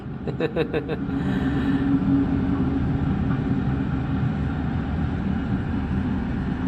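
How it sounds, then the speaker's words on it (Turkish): A train rolls past outside a window with a steady low rumble and rushing noise that lasts throughout. A few quick sharp knocks come near the start, and the train stays close and fairly loud. "Trende geçiyor dışarıdan."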